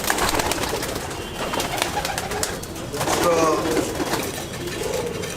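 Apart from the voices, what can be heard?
pure Malwai pigeons cooing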